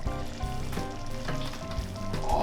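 A spicy cayenne pork spaghetti sauce sizzles and fries in a pan, a steady close crackle with recurring bubbling pops and soft stirring scrapes, heard alone without voices.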